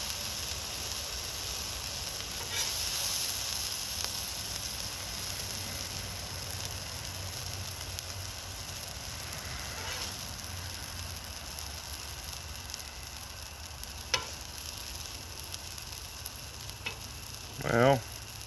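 Cheesy mushroom tortellini sizzles softly on an outdoor griddle at night, a faint continuous hiss with a few scattered clicks and a brief louder scrape near the end.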